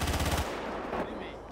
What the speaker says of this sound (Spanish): A ver, dispárame. Métele plomo, Goyo.